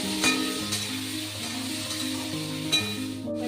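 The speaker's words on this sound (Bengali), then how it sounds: "সিমটাকে ভালো করে একটু ভাজা ভাজা করে নেব" Flat beans frying in a pan with turmeric and salt, a steady close sizzle with faint stirring scrapes, while a tonal background melody plays throughout.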